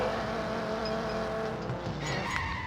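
Race car engine in the mobile racing game Need for Speed No Limits revving hard at the start line, a steady loud mechanical drone with a rising whine near the end, no voices.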